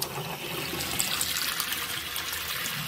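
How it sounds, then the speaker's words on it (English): Water runs steadily from household sink faucets to flush rust and dirty water out of the plumbing, a constant bright hiss and splash with no pauses, close and moderately loud. "I'm going to go run some sinks."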